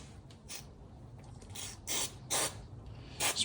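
A spray bottle squirts cleaner onto Ruger Mark IV 22/45 pistol parts in several short, sharp hissing bursts, spaced irregularly and heard close up with no talking.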